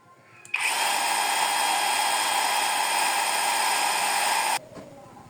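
MOLLAR cordless circular saw spinning freely at medium RPM, a sudden start into a loud, steady high-pitched whine held for about four seconds before cutting off abruptly.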